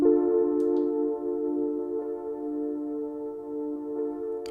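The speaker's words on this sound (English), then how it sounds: "Next up, we have a piano" A sustained piano chord played on an Ableton Move, its layered tones holding steady and fairly soft throughout, with no voices.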